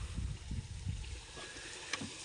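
A new boat engine runs steadily, a loud continuous rumble with a low rhythmic pulsing under the water and wind noise.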